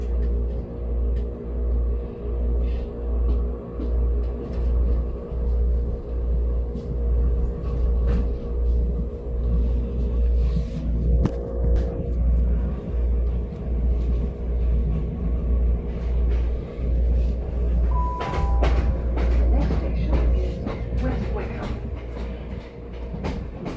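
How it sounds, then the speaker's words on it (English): A Class 465 electric train pulls away from a station platform, a steady close rumble with rhythmic clicking of wheels and rising motor whine over about twenty seconds. "Train's just departing."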